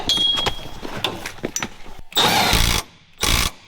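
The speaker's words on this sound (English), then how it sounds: "Got Dinner over there, tightening up the bolts." Two loud bursts of a power tool, likely an impact wrench, as bolts are tightened on the seat cage of a custom Jeep build, separated by short pauses after a stretch of softer shop clatter.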